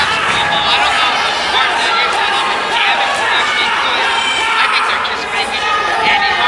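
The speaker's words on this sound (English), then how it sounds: "Crowd showing their appreciation here in Danville." A wrestling crowd in Danville roars and chatters at a two-out-of-three-falls championship match. The dense, continuous crowd noise fills the arena, with a commentator's voice talking over it throughout.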